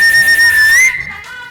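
A loud, sustained human whistle held on one steady pitch with a slight upward bend near the end, then cutting off abruptly into a quieter room.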